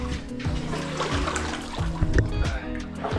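A sport motorcycle ridden along a flooded road in Eastern Samar, water churning and splashing continuously beneath a low, steady engine rumble, close and fairly loud throughout.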